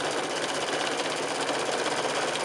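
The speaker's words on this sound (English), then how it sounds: "I'm just going to be sewing this onto the raw edge to the raw edge of this little sandwich." Sewing machine stitching binding onto the raw edge of a quilted oven glove, a fast, even mechanical whir with rapid needle chatter, steady and close.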